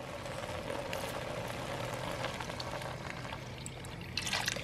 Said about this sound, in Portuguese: Já podemos acrescentar o leite.